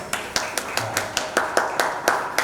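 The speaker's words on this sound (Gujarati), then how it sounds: "જોરદાર સખીઓને તાળીઓથી વધારશું આપણે" Audience at a Bhagavat Katha religious gathering in a temple clapping in unison, a steady rhythmic beat of about ten sharp, evenly spaced claps, fairly close and loud with no talk over them.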